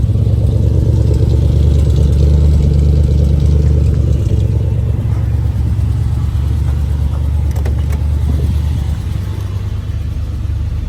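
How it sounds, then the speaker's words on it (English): A 1966 Chevrolet Impala SS with a 396 engine and dual exhaust idles close by. Its deep, steady burbling rumble settles slightly quieter toward the end, with no voices. "Nice sounding dual exhaust."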